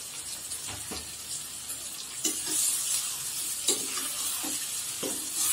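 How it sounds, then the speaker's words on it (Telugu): Goat liver pieces going into frying masala for a tomato masala curry, a steady sizzle with sharp scraping stirs at intervals, the frying swelling a little louder toward the end. "ఇప్పుడు మటన్ లివర్ ముక్కల్ని దీనిలో వేసుకుందాం"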